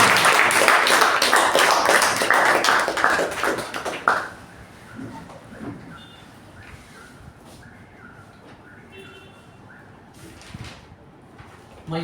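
An audience welcomes a speaker to the stage at a Toastmasters meeting with loud, dense applause for about four seconds. The clapping then drops away to quiet room noise with a few scattered taps.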